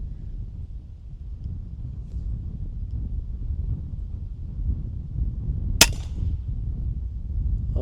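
A single sharp crack from an FX M3 custom air rifle fired at a squirrel outdoors, one brief loud report standing alone over a low rumble of wind and ambient noise, with no talk.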